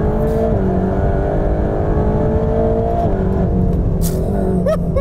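Loud in-cabin drone of a 730 PS Mercedes-AMG GT Black Series on the Nürburgring, the engine holding a heavy harmonic roar that shifts pitch with gear changes, steady and close throughout with a brief sharp clatter near the end.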